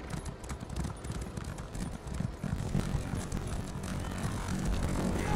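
Many horses galloping together in Elder Scrolls Online PvP, a dense, continuous drumming of hooves under game ambience and combat noise, steady and fairly loud throughout.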